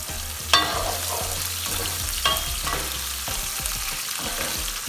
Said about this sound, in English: I'm adding little onions, little potatoes, just one potato on the very high heat.